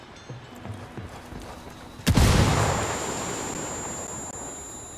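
A frag grenade goes off in Ghost Recon Wildlands after a short lead-in of quieter game sounds, giving one sudden loud blast followed by a long rumbling, hissing decay.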